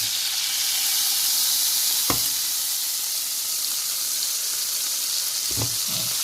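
Steak, butter and bacon sizzle in a hot pan, a steady close frying hiss with a sharp knock near the middle and a clatter toward the end, no talking.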